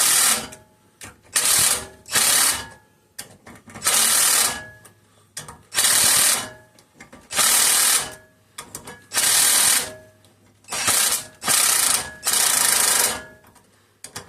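A power tool works a part off the crankshaft of a 5 hp Briggs and Stratton engine with gear reduction, firing about a dozen loud, harsh mechanical bursts with short pauses between them, close by and with no speech.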